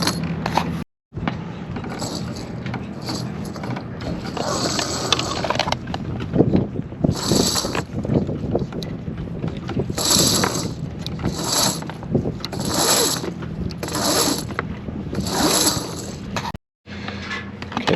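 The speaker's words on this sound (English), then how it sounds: "so now we have it ran through the lower pulley. We're going to run it back. Run it through this back pulley." Rope runs through the pulleys of a Garhauer EZ Glide adjustable genoa car system on a sailboat, close-up ratcheting clicks and squeaky sheave whirs in irregular bursts, with wind noise buffeting the microphone.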